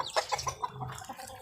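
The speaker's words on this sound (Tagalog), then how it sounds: "Gulo na mga manok." Chickens cluck in quick, busy bursts close by, several birds overlapping in a short flurry.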